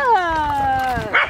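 A small puppy gives a long, high whimpering yip that slides down in pitch, followed by a short sharp yelp at the end, close and fairly loud.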